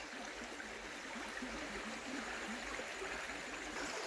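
Steady rush of flowing stream water, continuous and moderately loud, with a faint gurgle running through it and no voices.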